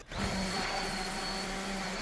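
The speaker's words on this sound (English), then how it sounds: "And another bit of sanding." Steady power-sander drone on wooden shelf boards for a floating hidden shelf, a continuous close whirring hum with a faint high whine, running unbroken and alone with no talk.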